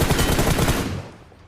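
Gunfire in a shooting video game: a short, dense burst of rapid automatic shots, loud and close, then quickly tailing off.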